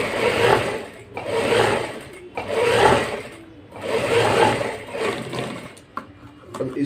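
A sewing machine stitches a blouse in several runs of whirring, steady stitching, each swelling and easing off between short pauses, close and loud.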